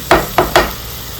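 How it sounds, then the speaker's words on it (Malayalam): Onions sautéing in a frying pan for a chicken roast, with three quick stirring scrapes over a steady background sizzle. "ഇതൊന്ന് വഴണ്ട് വരും വരെ നമ്മൾ നന്നായിട്ട് ഇളക്കണം"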